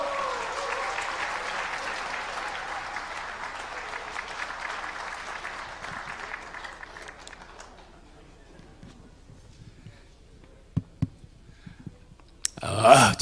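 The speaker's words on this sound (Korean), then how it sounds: "큰 박수로 맞아주십시오." An indoor crowd at a security civic groups' rally in a Seoul hotel applauds to welcome a 94-year-old speaker. Dense clapping holds steady for several seconds, then thins and fades into quiet, with a few scattered sounds near the end.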